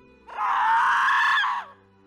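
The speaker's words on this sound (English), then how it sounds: "He was running when we heard the woman scream." A woman lets out one long, sustained scream lasting over a second, loud and close, then it cuts off into quiet.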